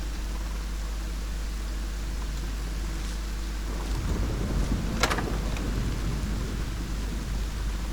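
Steady rain hisses throughout, growing heavier and rougher halfway through, with a brief sharp crackle near the end; no voices.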